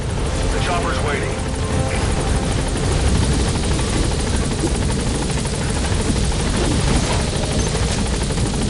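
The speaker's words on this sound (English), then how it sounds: "The chopper's waiting." Loud, close helicopter rotor and engine drone in the video game Metal Gear Solid The Phantom Pain, a constant dense whirring roar throughout, with voices speaking underneath.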